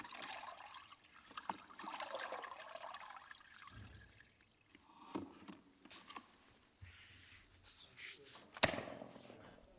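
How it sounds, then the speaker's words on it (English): An UltraSpeed mop sloshes and swishes through cleaning solution in a bucket. Soft, irregular watery splashes and drips come from close by, with no speech. "Rinse the mop in the solution, agitating slightly to remove loose dirt and debris."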